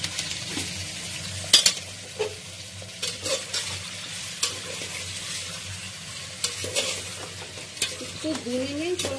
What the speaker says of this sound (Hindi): तो भूनेंगे थोड़ा जिससे इसका कच्चापन चला जाए।